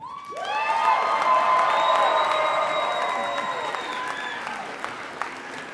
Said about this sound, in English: Now, graduates, it's your turn to applaud all of them.